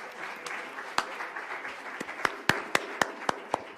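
Scattered audience applause after a Jesuit leadership lecture, thin at first and then breaking into a handful of sharp, distinct claps toward the end, with faint murmuring underneath.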